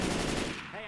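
Rapid gunfire from explosive ammo in the Left 4 Dead video game, a dense, loud burst of shots lasting under a second that trails off at the end.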